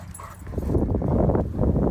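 A Great Dane and an English Mastiff play roughly together, giving off a steady, dense stream of close growls, grunts and low whimpering vocal noise that stays loud throughout with no clear pauses.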